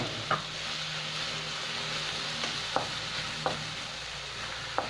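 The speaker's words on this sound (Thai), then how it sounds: "ไม่ต้องผัดนานมากนะคะ" Textured soy protein stir-fried in a pan, a soft steady sizzle with a few sparse, faint clicks of a utensil against the pan at irregular intervals.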